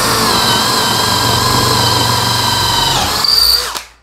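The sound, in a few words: Bosch GSB 185-LI drill boring angelim wood, 10 mm bit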